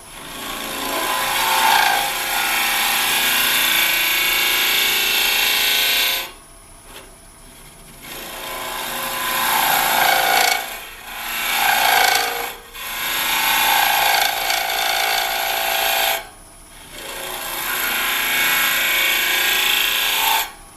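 A carbide woodturning tool cuts end grain on a lathe while hollowing, throwing off curly shavings. It makes loud, rasping scraping passes broken by short pauses, alone with no talk.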